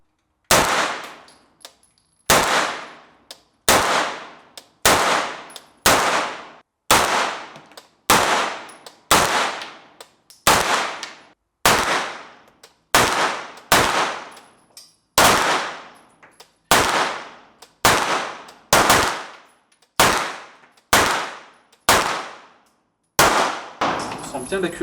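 Shots from a Saber Gears SG9 AR9 pistol-calibre carbine strike steel gongs, each sharp bang followed by a ringing metallic clang that slowly fades. About sixteen shots come at a fairly regular, unhurried pace and sound loud and close.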